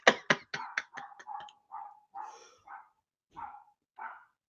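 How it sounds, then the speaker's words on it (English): A dog barks in a rapid series of sharp yaps that slow into longer, spaced whining barks, fairly close and alone without talk. "Somebody's barking."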